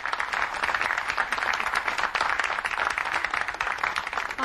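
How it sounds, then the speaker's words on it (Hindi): An audience claps at a Hindi poetry stage event, a steady, fairly faint, continuous wash of applause with no talk over it. "तालियां जोरदार"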